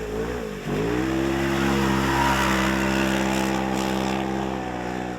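A rally car with engine trouble passes at a gravel forest stage, its engine dipping briefly and then holding a strained, steady drone with rough harmonics, loud and near throughout.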